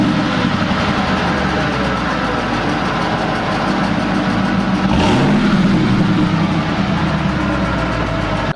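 Ford SVT Lightning pickup truck engine idling steadily and loud, a continuous deep rumble with one brief rise in revs partway through.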